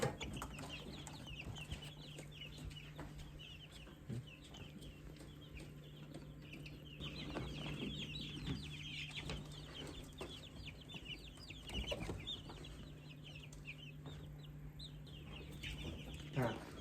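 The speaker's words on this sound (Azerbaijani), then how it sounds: "Bunlar təzə gələn cücələrdir də." Newly arrived baby chicks peeping in a soft, continuous chorus of high cheeps, faint and somewhat distant, with a low steady hum running underneath.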